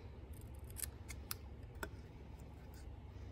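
Scissors snip through cardstock in a quick series of small, crisp cuts, close and fairly quiet over a low steady room hum.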